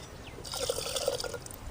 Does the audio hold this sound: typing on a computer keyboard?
no